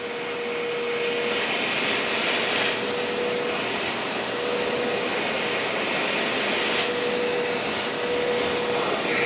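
Portable carpet cleaner spraying and suctioning a carpet, a steady loud motor whine with a faint high tone running through it, continuous and close throughout.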